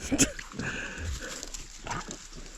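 A dog makes short whimpering, yipping sounds close by in a forest during a hot-weather mushroom-picking outing, a few brief vocal bursts amid quiet background noise.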